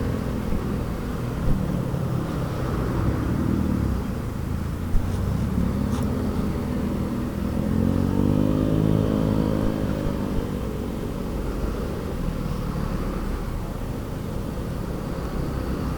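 Road traffic at a jam, with continuous engine rumble from nearby vehicles and a rising engine note as one vehicle revs and passes close by, steady and fairly loud throughout.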